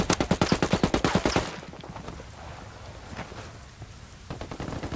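A rapid burst of automatic gunfire in the video game Ghost Recon Wildlands PvP mode, loud and evenly spaced, then a quieter stretch of ambient noise before more shots resume near the end.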